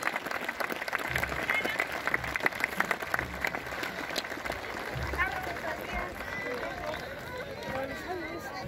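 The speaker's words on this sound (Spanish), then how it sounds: "Ese aplauso fuerte para la barra aquí en el Guillermo Briceño." In the Guillermo Briceño stadium, a large football crowd applauds and roars, loud and continuous, with chanting and crowd babble mixed in and an announcer's voice talking over it.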